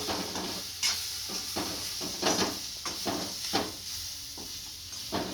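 A spoon scrapes and stirs a gram flour and green chilli mix in a pan, making irregular knocks and scraping strokes over a low background sizzle, close by, with nobody speaking.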